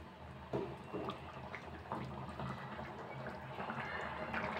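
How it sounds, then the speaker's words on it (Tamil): Paruppu urundai kuzhambu, a lentil-ball curry, boiling in a pot on a medium flame, giving a steady low bubbling with small pops and drips close by, no voices. "ஒரு 5 நிமிஷம் மீடியம் ஃப்ளேமில் கொதிக்கட்டும்."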